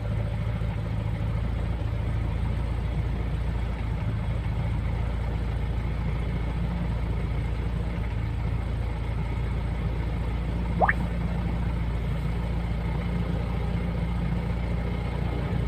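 A Fiat 126P engine idles steadily after a cold start, a low continuous rumble that stays level and alone throughout, with one brief higher chirp near the end.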